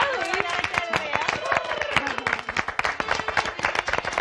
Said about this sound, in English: Clap, please. Clap.